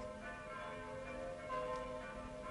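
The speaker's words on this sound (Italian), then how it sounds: "le campane, l'avete sentito?" Church bells ringing in the distance, their faint, sustained tones hanging steadily under a quiet background hum for the whole stretch.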